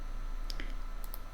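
A computer mouse clicks on OK with a few faint, sharp clicks, isolated against a quiet room hum.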